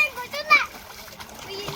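Children splash water in a stream or pond during a temple outing, brief splatters rising over chattering kids' voices close by.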